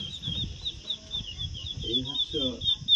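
Dragon duck ducklings and Australian chicken chicks peep and chirp in a steady high, rapid stream close by, while a person talks underneath.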